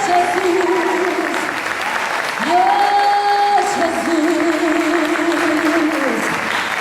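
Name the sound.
applause in a church service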